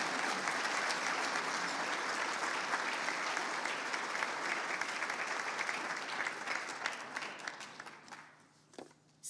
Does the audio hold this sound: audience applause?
yes